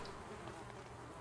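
A swarm of flies hums in the survival game Project Zomboid, a faint, constant buzzing drone with no voices over it.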